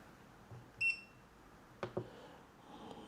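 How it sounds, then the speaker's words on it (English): A camera controller gives a short electronic beep, a single bright tone, followed a moment later by a couple of faint clicks in an otherwise quiet room. "now let's turn off the beep"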